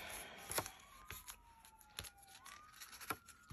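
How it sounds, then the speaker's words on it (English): Emergency vehicle sirens wail faintly in the distance near a hospital, a thin rising and falling tone drifting beneath soft indoor clicks and rustling, with no talking. "I don't know if you guys can hear all the sirens."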